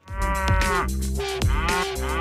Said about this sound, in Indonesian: ternyata ini hewan sapi teman-teman